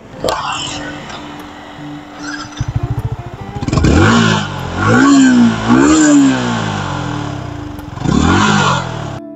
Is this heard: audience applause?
no